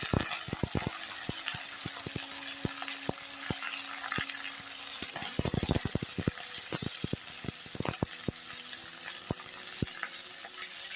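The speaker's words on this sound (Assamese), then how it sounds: "এতিয়া আলুখিনি অকণমান ফ্ৰাই কৰি ল'লোঁ" Chopped potatoes fry in a pan for a vegetable chorchori with a steady, close sizzle, while scattered clinks and scrapes of stirring come through over it.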